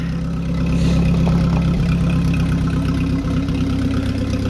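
An Oliver 550 tractor engine, freshly fitted with a new clutch and brake shaft seal and running rich, idles steadily nearby with a low, even rumble and no voices.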